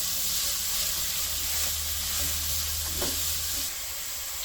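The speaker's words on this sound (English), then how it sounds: "You can add the onions. Add it all in. Give it a nice mix." Onions fry with garlic in a pan, giving a steady close sizzling hiss with a faint scrape of stirring partway through.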